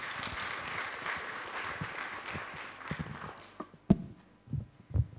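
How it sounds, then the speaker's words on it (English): Conference audience applauding after a talk at a radiation oncology scientific meeting, a modest patter of claps fading and thinning into a few scattered louder claps and knocks at the end. "A round of applause, please."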